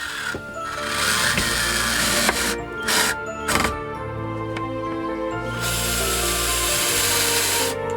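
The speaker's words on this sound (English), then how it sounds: "I have to sand it" Wood is sanded with a power tool during a camper van build, a close, loud, grinding whir that drops out briefly a few times before running on steadily.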